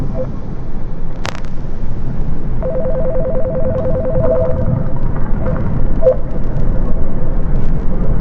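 A video game telephone ring warbles in repeated electronic bursts over a steady low rumble, moderately loud, with brief sharp clicks nearby.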